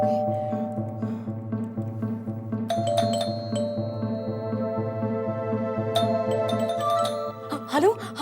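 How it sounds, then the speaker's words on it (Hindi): A household doorbell chimes with bright ringing tones over a steady background of musical drones, several chime hits sounding near the middle and end, fairly close and clear. "हाँ वो घंटी बजी है"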